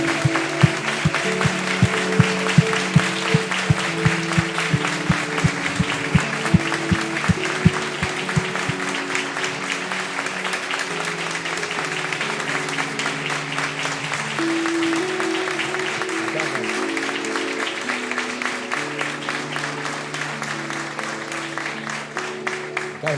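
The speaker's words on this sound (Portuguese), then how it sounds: "para a honra e glória do Senhor Jesus, aplaudir esses irmãos aqui." A church congregation applauds steadily and loudly for the whole stretch, with dense sustained clapping over soft music or organ tones underneath.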